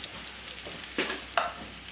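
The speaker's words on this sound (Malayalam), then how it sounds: "ഈ ഒരു വഴുതിനിങ്ങ ആവശ്യത്തിനൊന്ന് ഫ്രൈ ആയിട്ട് വന്നിട്ടുണ്ട്" Marinated brinjal fries over a high flame in a pan, giving a soft, steady sizzling hiss broken by a couple of brief stirring scrapes, close but fairly quiet, with no voices.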